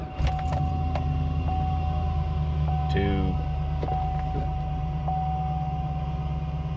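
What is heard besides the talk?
2009 Chevy Silverado 2500 engine starting and running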